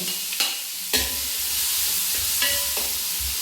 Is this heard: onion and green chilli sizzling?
yes